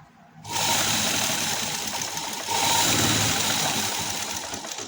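An electric sewing machine stitches lace onto fabric with a close, steady whirring hum after a short quiet start, briefly easing and then resuming at full speed, without talk.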